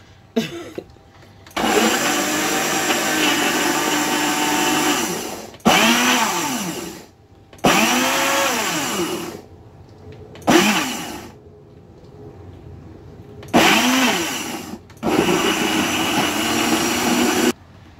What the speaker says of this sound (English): It's like you're blending peppers for ayamashi.